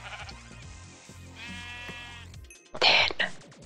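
Sheep in the game Minecraft bleat several times in quick succession, close and clear, with a louder final bleat near the end.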